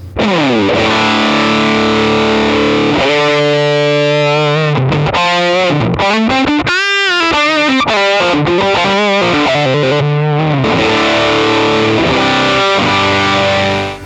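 Heavily distorted electric guitar through an Axe-Fx II amp simulator with a double reverb mix plays sustained chords and a few bends, loud and saturated with a thick processed tone, with no voices.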